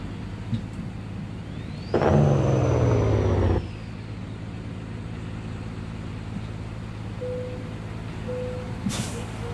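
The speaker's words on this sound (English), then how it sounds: "That's the Detroit diesel." Detroit diesel truck engine in American Truck Simulator, a loud rising rev for about two seconds over a steady low engine drone, then settling back to a quieter idle hum with faint beeps near the end.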